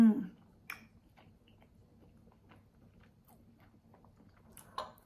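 Someone chews a mouthful of stuffing with gravy close to the mic, with soft wet bites and a couple of sharper clicks over a few seconds and no talk.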